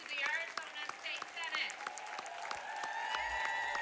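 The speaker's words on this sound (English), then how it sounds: "Standing ovation for Gabby here." Standing ovation applause for Gabby, who remains the youngest woman ever elected to the Arizona State Senate, sustained crowd clapping with sharp individual claps and a voice talking over it throughout.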